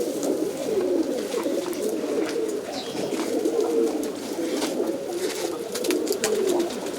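Racing pigeons kept by a champion fancier coo continuously, low rolling calls from a flock overlapping steadily with light rustling throughout.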